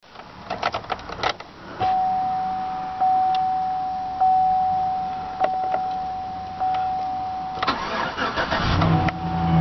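A 2008 GMC Sierra with a five-speed manual transmission starts up. The engine cranks several times in repeated bursts, then settles into a steady, close idle with no voices.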